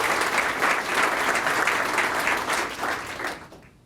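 Audience applause at a courthouse Law Day ceremony, a continuous dense patter of many hands that swells slightly in waves before tapering off near the end.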